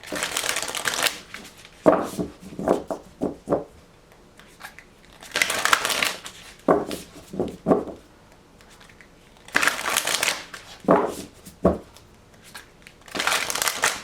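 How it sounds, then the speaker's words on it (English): Tarot cards are shuffled repeatedly in bursts, each a riffle of crisp papery flutters followed by sharp taps, with short pauses between rounds. "One more shuffle for Cancer, please."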